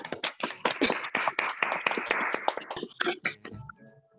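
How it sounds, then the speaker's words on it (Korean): Audience applause, a brief burst of hand clapping from a seated group at a church education session, close and crisp, fading out after a few seconds. "우리 답변해 주시는 두 분께 박수 한번 드리겠습니다"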